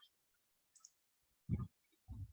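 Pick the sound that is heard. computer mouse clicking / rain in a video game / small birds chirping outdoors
computer mouse clicking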